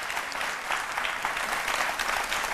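A live midday TV studio audience applauds as guests arrive, with continuous dense clapping at an even level throughout, no voices over it.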